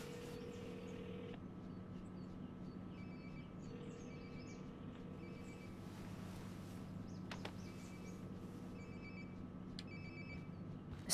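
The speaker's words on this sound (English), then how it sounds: "Sounds like my phone is definitely nearby." Phone ringing in the video game Life Is Strange: Before The Storm, a soft repeating electronic ring in short bursts over a steady ambient background hum, heard at a moderate distance with no talking.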